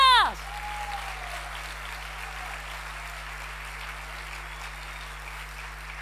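A church congregation claps more energetically during a worship service, a sustained wash of many hands continuing evenly after a short spoken phrase opens the moment.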